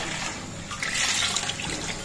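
Water poured from a glass into a pot of yogurt masala for a besan-based Memoni khandvi gravy, a steady close splashing pour that swells slightly midway and runs for about two seconds.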